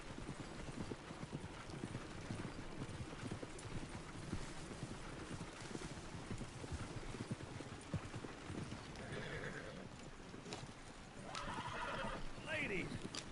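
In Red Dead Redemption 2, a horse's hooves clip-clop in a steady, quiet gait along a trail, and the horse neighs near the end, faint under the ambient game sound.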